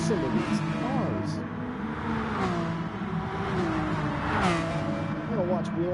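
Race car engines, including Ferraris, an Aston Martin Vulcan and a Lamborghini, in a racing video game, a continuous loud roar of several engines revving and shifting pitch as cars pass, with a voice talking over them.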